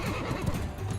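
A horse whinnies briefly amid battle noise in the video game Mount and Blade II: Bannerlord. It is a short, fairly faint neigh mixed with rumbling combat sounds.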